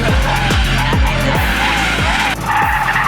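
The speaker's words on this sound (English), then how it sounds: "It's difficult to hold a slide in the Carrera GT." A Porsche Carrera GT slides with loud, sustained tire squeal and skidding, engine pulses surging and dropping in a repeating rhythm, close and intense.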